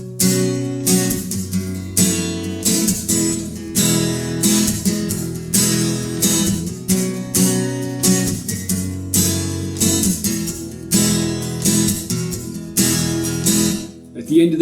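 Acoustic guitar strumming the verse of a song in a lesson, with a driving rhythm that imitates the song's drum beat; steady, loud, close strums continue without pause and without talking.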